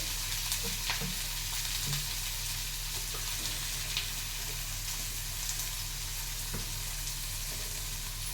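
Onions fry in oil in a pan, giving a steady, close hiss of sizzling that runs without a break, with a few faint crackles and taps scattered through it and no speech.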